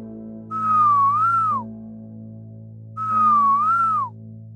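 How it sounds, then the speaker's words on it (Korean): An eerie whistled tune sounds twice, each time a single sliding, wavering phrase that rises and then falls away, close and clear over a low steady hum with a pause between. "귓가에 휘파람 소리가 들려오는 겁니다"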